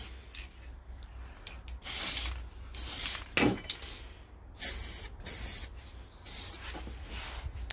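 Aerosol paint sprayed in short repeated hissing bursts onto a Nissan Qashqai J10 wing mirror rear casing, close and fairly quiet, with brief pauses between passes.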